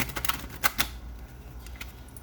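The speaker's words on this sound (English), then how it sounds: "one more shuffle" A few quick papery riffles and flutters of a card deck being shuffled, close by and brief, with no talking.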